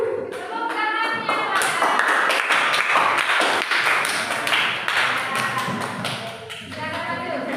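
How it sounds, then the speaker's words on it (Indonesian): Classroom students clapping as a classmate comes forward, a lively burst of many sharp individual claps at close range with some overlapping voices, tapering off toward the end. "Tepuk tangannya"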